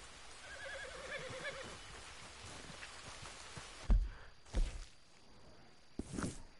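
A horse, a mare, neighs and whinnies in a few short bursts near the end, after a quieter stretch of faint background noise.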